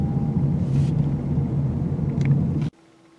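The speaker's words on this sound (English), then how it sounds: "I'm going pretty quick and I haven't spun the car out yet." A 2017 Ford Fusion driven fast, its engine and road noise a steady loud rumble with tire roar that cuts off abruptly near the end, leaving a faint hum.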